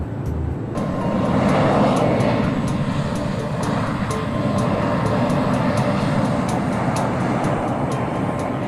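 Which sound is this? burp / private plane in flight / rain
private plane in flight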